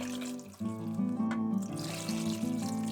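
Water pouring steadily into a pot of soy sauce for shoyu ramen broth, a continuous gurgling stream whose tone rises slightly as it fills.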